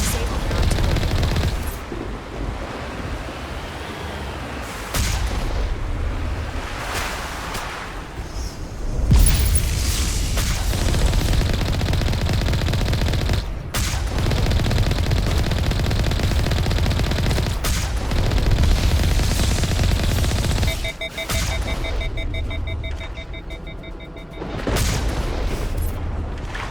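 Heavy artillery fire booms and rumbles through a Mass Effect battle, repeated loud blasts and sustained explosive barrages with brief gaps, a dense, close combat soundscape.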